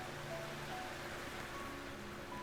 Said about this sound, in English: And then it rained.